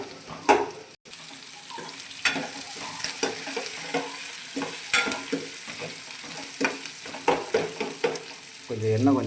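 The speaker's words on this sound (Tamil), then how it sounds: "நல்லா கிண்டுனாங்கன்னா கிண்டிக்கிட்டே இருக்கணும்." Onions frying in plenty of oil for a tomato stir-fry, sizzling steadily while a spoon scrapes and knocks against the pan in frequent irregular strokes, close and moderately loud.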